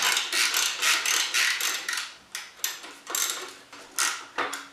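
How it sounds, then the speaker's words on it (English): A ratcheting wrench loosens an alternator bolt on a Jeep CJ7, making a series of close, crisp clicking sweeps in a steady back-and-forth rhythm of about nine strokes, with no talking. "These ratcheting wrenches are pretty nice to have. Makes quick work of this type of stuff."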